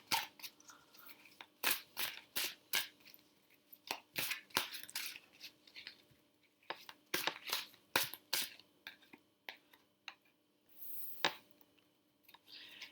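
Oversized tarot cards are shuffled by hand in a quiet room, making repeated crisp riffles and snapping bursts in an uneven rhythm. The sound is close and fairly faint, and no one speaks.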